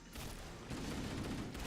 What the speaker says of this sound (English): Let's chuck a grenade to blow up.